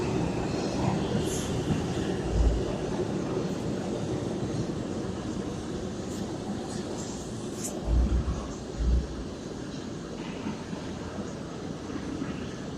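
A train rolling past with a continuous broad rumble and wheel noise, a few heavier thumps along the way, close and steady with no talk.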